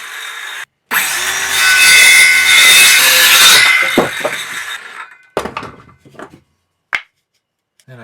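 A pine wood block cut with a saw for a DIY wooden hand guard, a loud close sawing burst lasting a few seconds, followed by scattered knocks and clicks of wood being handled.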